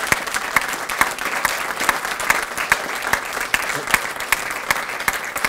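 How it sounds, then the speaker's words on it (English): Audience applause at a governor's bill signing honoring a community services board, with steady, dense clapping from a crowd throughout, sharp individual claps standing out. "Give yourselves a great round of applause,"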